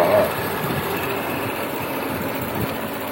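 A 2018 Audi A7 55 TFSI with a 3-litre mild-hybrid turbo V6 petrol engine idles steadily, a low, even hum heard close up in the engine bay with no speech.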